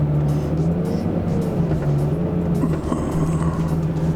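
A V10 Lamborghini with a gated manual idles and creeps out of a snowy driveway, a loud, steady low engine drone with a faint rising whine partway through.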